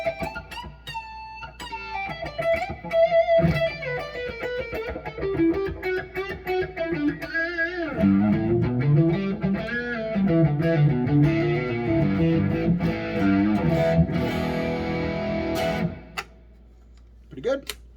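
An Eart GW2-Pro electric guitar on its neck position pickup plays a distorted melodic line with bends and sustained notes, loud and up front, with picking ticks and a fade to near silence at the end.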